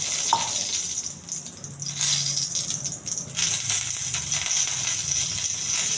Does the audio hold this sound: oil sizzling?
yes